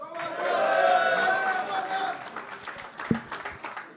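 Crowd at a boxing press conference breaks into applause and cheering, a swell of clapping and shouting that peaks early then thins into scattered claps and chatter, with one sharp bang near the end.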